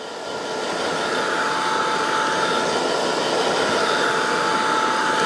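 A heat tool or dryer blows steadily to dry ink on a stamped card, a loud continuous whooshing hum that ramps up briefly at the start and then holds even throughout.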